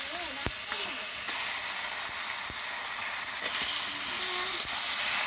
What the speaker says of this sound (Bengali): মাংসগুলো সব দিয়ে দিচ্ছে।